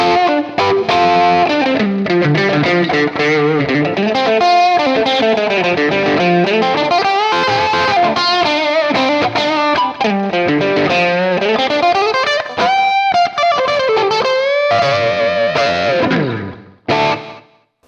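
Electric guitar playing a melodic run with chords and bends, a bright, slightly driven tone, steady and loud, then trailing off at the end.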